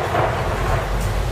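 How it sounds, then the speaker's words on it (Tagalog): Loud thunder rolls as the sky darkens, a low rumbling roar sustained through the brief moment with a hiss like rain over it. "biglang dumilim ang kalangitan. May halong malakas na kulog."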